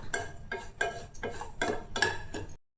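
Rava (semolina) is stirred and roasted in a pan for rava laddu: five rhythmic scraping strokes about half a second apart, close and clear, then it stops abruptly.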